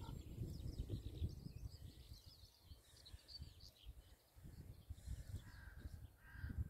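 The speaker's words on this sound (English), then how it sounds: "Crow calling." A crow caws repeatedly in open countryside on a long hike, with distant bird calls and skylark song around it and steady wind or footstep rumble underneath.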